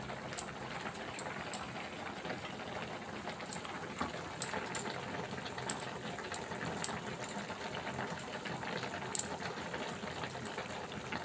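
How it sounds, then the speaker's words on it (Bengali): A pot of ridge gourd curry with pomfret fish bubbles over a full flame, a faint, steady simmer broken by small sharp pops and crackles at irregular intervals. "এবার মা ঢাকনাটা খুলে মাছগুলো ছেড়ে দেবে।"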